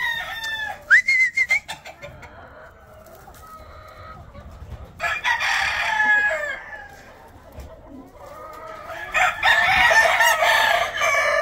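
A Leiper rooster crows loudly twice, with black Asil Plummer hens clucking and squawking between the calls, close by and fairly continuous.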